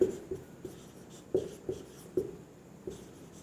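Chalk or marker taps and scratches on a classroom board during a physics lesson, a steady series of short, close, moderately quiet strokes with no talking.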